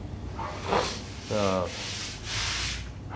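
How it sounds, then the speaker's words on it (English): Wet sanding of automotive clear-coat paint with 1000 grit sandpaper and a little water, giving a few short, close rubbing scrapes in bursts with brief pauses between strokes. "you can take a piece of 1000 grit with a little bit of water and nib those spots out"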